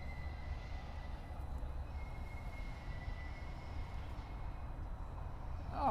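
A group of four freight locomotives rolls past at a distance with a steady low rumble and rail noise, a thin wheel squeal running through it and rising at the very end, with no talk.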